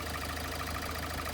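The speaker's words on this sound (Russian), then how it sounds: "лишний звук в моторе" Kia Sportage 1.7 CRDi D4FD diesel engine running at a steady idle with the filler cap closed, a continuous low hum carrying a faint rapid knock, close and even throughout.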